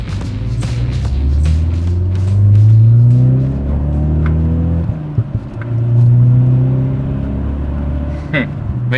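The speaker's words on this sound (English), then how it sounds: "it took some time to prime it and get the engine started" A Ford Focus RS EcoBoost engine with new ARP head studs and Mountune head gasket runs close by, rising into two loud sustained revs before dropping back to a lumpy idle, with a few clicks and knocks.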